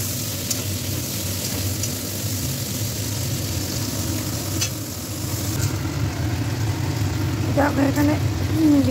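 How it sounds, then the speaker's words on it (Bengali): Eggplant pieces sizzling in hot oil in a pan at home, a steady close frying hiss with a low background hum throughout, brief clinks near the end. "এখানে আমি বেগুনগুলো ভাজবো একে একে"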